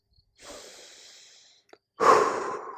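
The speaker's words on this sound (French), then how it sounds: "Vous soufflez, vous respirez" A breathing exercise: one long, soft airy exhale or inhale lasting about a second, then after a short pause a louder, forceful breath blown out close to the listener, with no speech.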